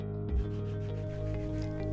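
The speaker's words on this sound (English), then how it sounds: "Sanding until I reached solid wood and the contact surfaces are flat" Continuous rubbing rasp of sanding on the wood of a 1930s coffee grinder, steady and close with a dull bump near the start.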